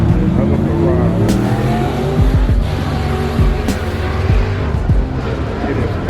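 Supercars including an Audi, a Porsche and a Ferrari launch away from a packed car meet, engines roaring loudly with rising revs and brief tire squeals, under crowd chatter and speech throughout.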